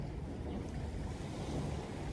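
Strong cold wind by the sea on an overnight fishing trip, a continuous low rumbling roar with surf-like wash and microphone buffeting, moderately loud and unbroken.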